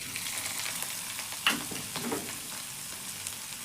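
Asafoetida and grated ginger hitting hot oil in a pan, a soft, steady sizzle with a sharper crackling burst as the ingredients drop in, fairly quiet, no talk.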